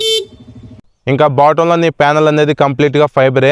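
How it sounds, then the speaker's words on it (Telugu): A Hero Destiny 125 VX scooter horn sounds as one short, steady tone near the start. Loud talking follows right after it. "నెక్స్ట్ ఇంకా ఈ స్కూటీ హార్న్ సౌండ్ వినటానికి ఎలా ఉంటుంది."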